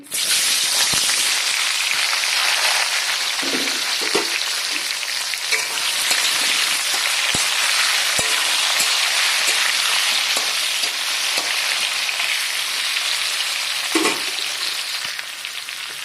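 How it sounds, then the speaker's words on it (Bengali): Pointed gourd (potol) pieces frying in hot mustard oil, a steady close, loud sizzle and crackle running throughout with occasional louder spits and pops. "সর্ষে তেল গরম হয়ে গেছে তো আমি পটলগুলো দিয়ে দিচ্ছি তেলের ওপরে"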